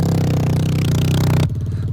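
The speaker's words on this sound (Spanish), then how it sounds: "Solo sonido del escape." A motorcycle exhaust burbles at low revs, loud and close, with a steady throbbing pulse that drops in tone and thins out near the end.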